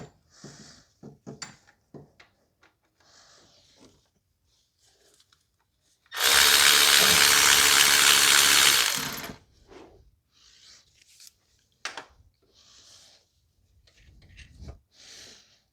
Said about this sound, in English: So we're going to get the bolts out now.